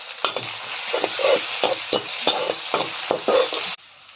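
Onions and ginger garlic paste sautéing in a pan, with a steady sizzle under regular spatula scrapes and taps about twice per second, close and fairly loud, stopping just before the end, no talking.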